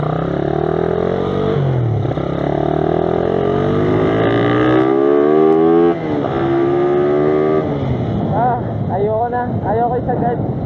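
A stock Suzuki Raider 150 fuel-injected motorcycle engine runs up close and loud, its pitch sweeping upward through repeated revs and gear changes.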